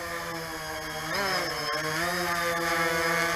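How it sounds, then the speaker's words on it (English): A Bayang Toys X16 Typhoon quadcopter drone with brushless motors whines steadily close by, its pitch rising and wavering as the motors speed up midway, with no talking. "brushless motor quad"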